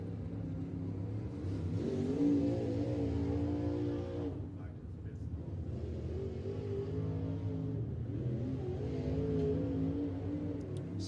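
Modified dirt race cars run hot laps at Farmer City Raceway, engines revving and droning continuously at a distance, rising and falling as the cars circle the track, with a commentator talking over them.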